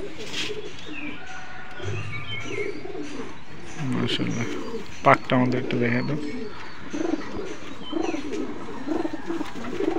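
Pigeons coo softly and repeatedly among Benarasi Azan breed and Pakistani high-flying birds, one a cross with small mid-sized breeds, while someone talks over them nearby.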